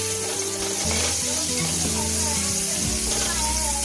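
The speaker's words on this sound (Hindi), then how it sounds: "बटर में, ताकि ये अच्छी तरह इसमें फ्राई सा हो जाए" Something sautéing in butter in a pan for a restaurant-style chicken steak mushroom sauce, a steady broadband sizzle running throughout with faint tonal kitchen sounds beneath it and no speech.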